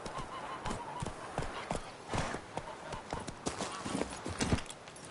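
Hooves of Roach, a horse in the video game The Witcher, clip-clopping in a steady rhythmic gait, moderately loud under background ambience.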